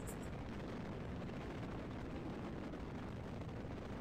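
Rocket engine roaring in the Kerbal Space Program video game, a steady, dense broadband rumble that fills the whole stretch without letup and without speech.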